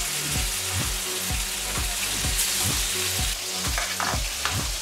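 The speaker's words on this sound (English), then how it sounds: "While our fish is frying," Continuous loud sizzling of cod frying in a hot pan over medium-high heat, with bubbling crackle throughout and no voices.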